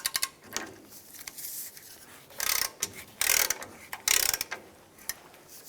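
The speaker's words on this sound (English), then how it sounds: "we'll snug this bolt up." A ratchet snugs up the lower shock mount bolt on a 1992-1996 Ford F-150 pickup, giving several bursts of quick metallic clicking separated by short pauses, close and clear, with no talking.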